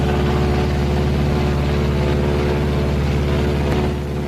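A 1944 B-26 bomber flying on a single engine gives a steady, loud droning roar with a low rumbling hum that holds constant throughout, with no voices over it.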